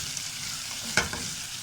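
Squid fry with tomato ketchup stirred in a hot pan, a steady soft sizzle with one sharp utensil clack near the middle.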